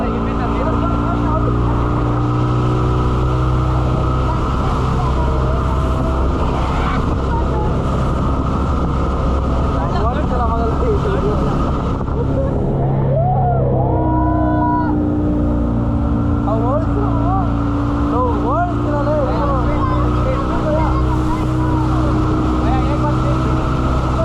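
A motorboat engine drones steadily and loudly at close range on a resort trip in Chikmagalur, holding an even hum throughout while people talk and call out over it.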